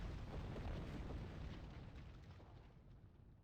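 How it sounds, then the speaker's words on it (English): A warp core explosion in the space game Star Trek Online erupts as a deep, roaring boom that rumbles loudly at first, then slowly fades away. "I should really not fly into warp core explosions."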